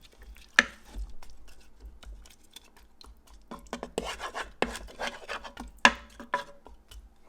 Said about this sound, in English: now I'm just going to give it a little mix around